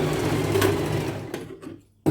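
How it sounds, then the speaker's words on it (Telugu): A sewing machine runs steadily while stitching a langa voni jacket, a close, continuous whirring hum that slows and stops near the end, followed by a brief restart. "కాబట్టి అక్కడ వరకు ఇలా స్టిచ్చింగ్ అనేది వేసేస్తాం."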